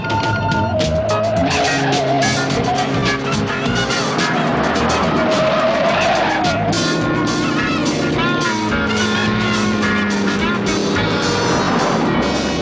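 A car engine revs and strains through a gear change and a right turn, with skidding tires and a passing swoosh, while voices talk over the noise.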